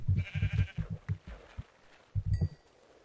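Minecraft sheep bleats sound in the game, arriving as a rapid series of short, loud pulsing cries, then a pause, then another brief burst, with no talking.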